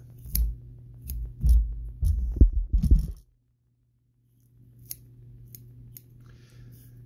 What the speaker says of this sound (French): tout ce qui est sur les côtés, comme ça, je vais venir couper l'excédent